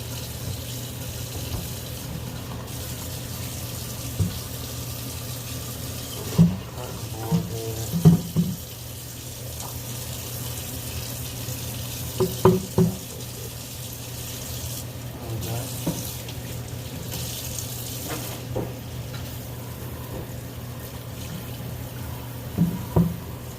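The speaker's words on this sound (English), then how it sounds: "I'm gonna rinse my board off real quick here." A kitchen tap runs steadily while a cutting board is rinsed after handling raw pork, a constant close water rush with occasional knocks and clatters of the board against the sink.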